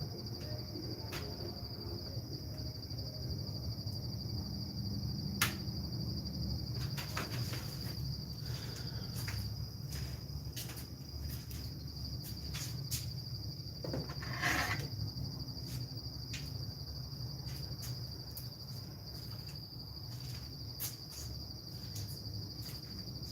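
Many insects gather around a light at night in a garden, a steady dense cricket-like chirring with a high continuous whine running throughout, plus scattered clicks and a brief louder burst midway.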